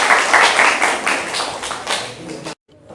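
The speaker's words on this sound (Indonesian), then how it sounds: "Kita kasih tepuk tangan." A classroom of students gives a round of applause, a brief burst of close, moderately loud clapping from many hands that cuts off abruptly near the end.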